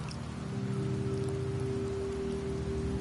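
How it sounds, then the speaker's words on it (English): Steady rain falls in Septimont within Wuthering Waves, a constant wash of drops on the ground under low, droning game ambience with a sustained tonal hum, uniform and unbroken throughout. "The rains in Septimont never seem eager to leave this season."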